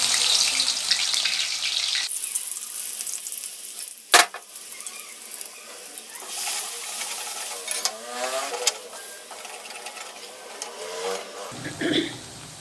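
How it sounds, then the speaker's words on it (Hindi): Garlic ginger paste sizzles and fries in a pan, a bright crackling hiss that changes as it is stirred, with a sharp clank partway and a quieter stretch before stirring noises return. "लहसुन अदरक का पेस्ट शामिल करेंगे पहले। इसको हम फ्राई करते हैं इसमें।"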